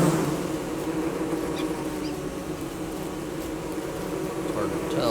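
Bees buzz near the bee queen in Don't Starve, a continuous close insect drone with a wavering pitch and small flutters, steady throughout.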